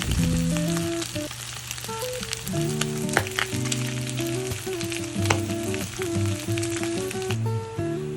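Pork pieces frying in their own rendered fat, with no added oil, for binagoongang baboy; a steady close sizzle runs throughout with occasional sharper pops and stirring clatter, while music plays underneath.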